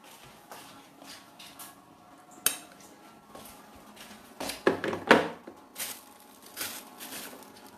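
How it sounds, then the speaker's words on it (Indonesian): Turmeric is ground by hand for a traditional remedy, with scraping and clinking against a pot or stone and a brief louder burst of grinding and knocks midway, all close and fairly quiet. "Aku giling lagi yang ini."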